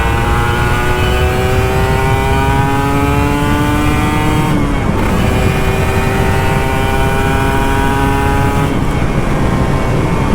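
A loud Kawasaki Ninja RR 150 motorcycle engine revs and accelerates through the gears, pitch climbing, dropping at each shift, then rising again, close and continuous.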